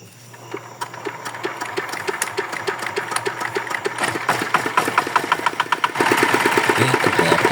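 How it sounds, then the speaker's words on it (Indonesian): A Yanmar DX tractor engine runs close by with a fast, steady mechanical chatter that grows slightly louder and fuller toward the end, with no talk over it. "ternyata mesin kita hidup normal, bagus dan aktif"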